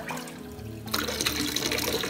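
Hot water poured into a foot bath, a steady rushing splash that swells loudly partway through and continues close by with no voices.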